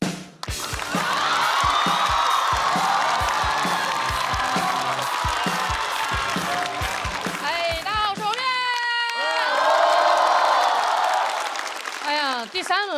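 Applause and cheering from a live stand-up comedy audience as a comedian is called to the stage: dense, loud clapping with whoops fills most of the stretch, broken by some music, then another burst of clapping.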